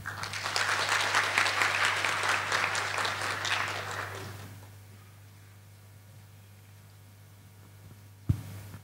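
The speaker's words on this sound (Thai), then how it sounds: "ขอเสียงปรบมือต้อนรับดร." A seminar audience applauds to welcome a speaker to the stage, a steady round of clapping lasting about four seconds before dying away into room hum and a single thump at the end.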